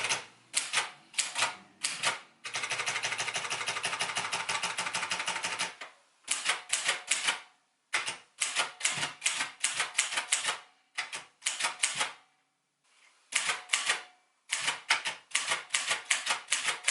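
A manual typewriter types out Christmas gift tags in quick bursts of sharp, close key strikes, with a long steady clattering run and brief pauses between lines.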